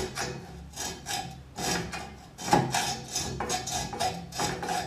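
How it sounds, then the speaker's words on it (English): A hand hacksaw with a metal blade cutting through the exhaust pipe of a Morris Minor: rhythmic back-and-forth rasping strokes, close and moderately loud, with one sharper knock partway through. "I may have to take a hacksaw to this one"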